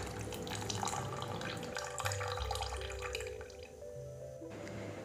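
Water sloshing and dripping as a spoon stirs rice in two cups of water, a steady close-up liquid sound with small trickles and no talking.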